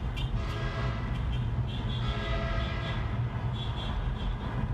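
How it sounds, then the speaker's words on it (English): A car horn that sounds much like a train horn blows during a police-support rolling rally in Dracut/Methuen, a steady, loud tone held over continuous road and engine noise. "his horn does sound like a train"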